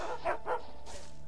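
A dog in the game Gothic barks twice in quick succession, two short close woofs standing out over a quiet, steady background hum.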